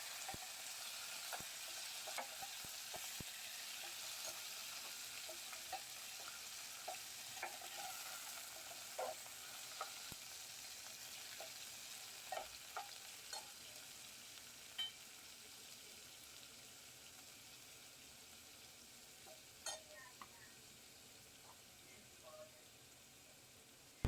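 Chicken pieces with curry leaves, turmeric and salt frying in hot oil in a pan, a steady soft sizzle with occasional stirring clicks and pops, no voices.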